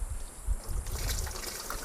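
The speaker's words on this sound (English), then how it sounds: "pour the water in" Tap water pouring into the tank of a Hessaire MC61M portable evaporative cooler, a steady close trickle and splash of liquid filling plastic for a couple of seconds, with no voices.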